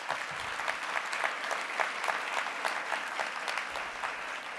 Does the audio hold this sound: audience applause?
yes